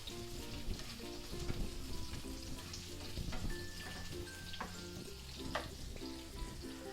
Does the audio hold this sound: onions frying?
yes